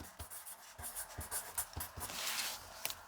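Pen writing numbers onto a folded paper pocket album made from one sheet, with short scratchy strokes and taps close up, alone with no voices.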